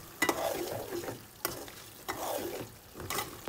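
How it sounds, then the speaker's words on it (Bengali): Meat frying and being stirred in a pan, with steady sizzling broken by sharp utensil scrapes roughly every second, close and clear, with no talking. "মাংসগুলো তো কষাচ্ছি"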